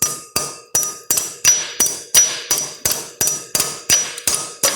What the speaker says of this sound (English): Beat that back up out of the way where it's not going to hurt the line.